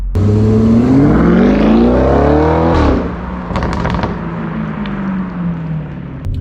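An Audi RS6 ABT engine with an Akrapovic titanium aftermarket exhaust revs hard and climbs in pitch, then drops off with crackles and pops from the exhaust as it settles into a lower drone.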